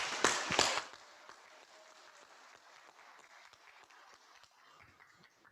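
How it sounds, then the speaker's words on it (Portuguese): A round of applause for veterans at an anniversary gathering, starting with a few loud nearby claps and settling into softer, steady clapping from the audience. "E uma salva de palmas, né? Para os nossos veteranos,"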